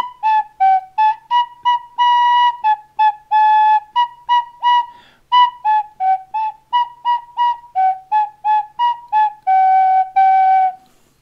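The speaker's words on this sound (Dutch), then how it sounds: "Bij een fluit maken we gebruik van de gaatjes om een instrument langer te maken." A flute plays a lively tune of short and held notes, stepping between pitches as finger holes change the tone, loud and close with clear tonal notes and brief gaps between phrases, no talk.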